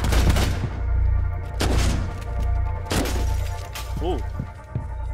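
Several loud gunshots ring out in a Rainbow Six Siege match, a sharp burst near the start followed by single shots at roughly one-second gaps, over a constant game-noise bed with a voice talking underneath.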